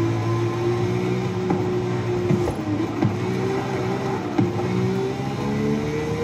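Car engine in a driving video game, a steady droning hum that shifts pitch as the car changes speed, with brief clicks and gear-like breaks, continuous and fairly loud with no talking.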